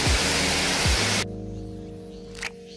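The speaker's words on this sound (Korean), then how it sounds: "뭉게 폭포를 보시고 계십니다." Broadband rushing roar of Ungye Falls (Unggye waterfall) on Gamaksan mountain in Paju, loud and steady for about a second before cutting abruptly to a much quieter outdoor background with a faint hum.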